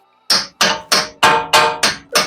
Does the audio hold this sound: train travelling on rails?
no